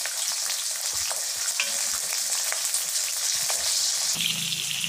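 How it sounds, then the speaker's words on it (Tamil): Onions sauté lightly in a pan for a bisibelebath (sambar rice), a steady close sizzle and crackle with occasional stirring scrapes and no talking. "ஆனியன் போட்டு 1 வதக்கு வதக்கிக்கலாம். சும்மா லைட்டாக வதக்கினா போதும்"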